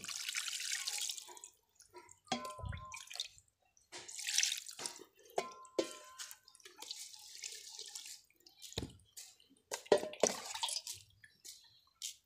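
Water splashes and trickles into a pot of spiced beef in short uneven pours with drips between them, close and moderately loud, ending in scattered clunks of the pot being handled.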